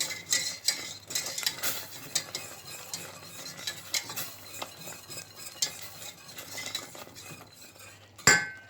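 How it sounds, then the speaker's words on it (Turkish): Ingredients for broccoli soup being stirred in a pot, a steady scraping and clinking of a utensil against the pot with a sharp metallic knock near the end, no talking. "biraz ekleyip karıştırmaya devam edeceğiz."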